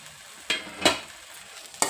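Blanched broccoli stirred into a hot pan, giving a faint sizzle with three distinct scraping, tossing strokes spaced apart, and no talking.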